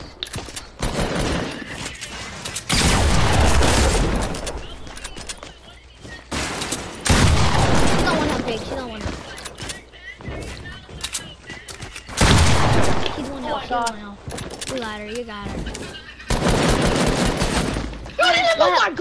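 Shotgun fire in a video game comes in loud bursts of blasts and rapid gunfire, separated by short gaps, with excited talk between the volleys.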